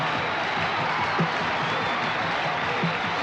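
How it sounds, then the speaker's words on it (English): A crowd at a martial arts demonstration gives a rousing ovation, with a steady, unbroken wash of applause and clapping throughout. "The crowd, in appreciation for the marvelous show he's put on, is giving him a rousing ovation"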